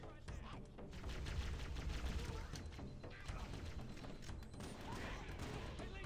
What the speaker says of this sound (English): I'm gonna just keep spamming grenades in there.